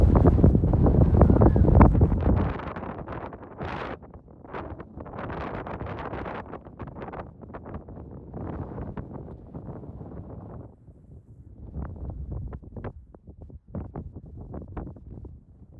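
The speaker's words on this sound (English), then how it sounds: "It's windy." Strong wind roars and buffets the microphone on a mountain high point of the Colorado Trail, gusting loudly at first, then settling into a steady rushing blow with brief lulls.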